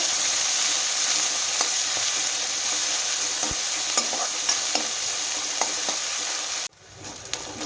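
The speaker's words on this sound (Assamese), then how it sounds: "এতিয়া এইখিনি ভালদৰে ভাজি ল'ব লাগিব।" Onion, ginger and garlic frying in a pan: loud, dense sizzle fills the pan continuously with occasional stirring clicks, then abruptly drops to a quieter hiss near the end.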